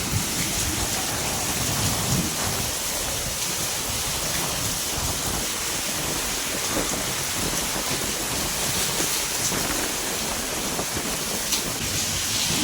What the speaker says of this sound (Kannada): ಗಾಳಿ ಸಮೇತ ಮಳೆ ಅದ ನೋಡ್ರಿ.